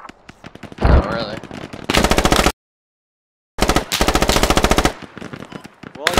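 Machine gun fire in a squad video game, long rapid bursts of shots broken by a brief silence, loud and close, with players talking around it.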